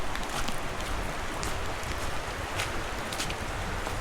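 Stream water rushes at a creek crossing in Kentucky, a broad steady wash of flowing water with occasional brighter splashes, close by and with no voices.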